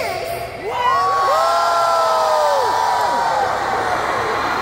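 Concert crowd at a K-pop show in Oakland cheering and screaming, a loud sustained wall of high-pitched shouts and whoops swelling after a brief dip.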